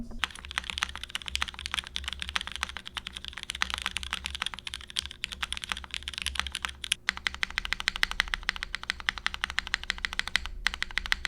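Rapid typing on a mechanical keyboard fitted with Nixie switches, including an unfilmed Nixie in the spacebar, gives a dense, steady stream of close, crisp keystroke clacks with occasional heavier spacebar thocks, heard alone without talk.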